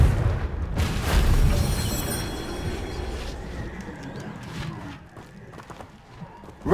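Confringo fire-blast spell exploding in the Hogwarts Legacy video game: a deep, loud booming burst that rumbles and slowly fades over several seconds with scattered crackles.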